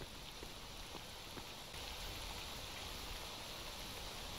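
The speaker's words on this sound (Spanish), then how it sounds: "Mi pregunta es, ¿por cuánto tiempo va a llover?" Rain in the video game S.T.A.L.K.E.R. Anomaly: a steady, even hiss of rainfall with faint patter, continuous and quiet throughout, with no voices.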